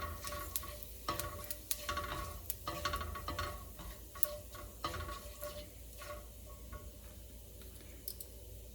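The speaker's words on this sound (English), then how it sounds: "a teaspoon of jeera, that is cumin seeds. I'm going to wait for that to splutter." Cumin seeds spluttering in hot oil, a steady bed of fine sizzle broken by frequent small crackling pops, close and fairly quiet with no talking.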